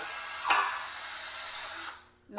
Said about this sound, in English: Now I always take a little wire brush in my drill,